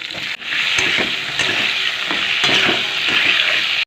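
Kalonji and radhuni seeds hit hot oil left from frying rui fish, giving a loud, continuous sizzle with crackles and stirring scrapes throughout.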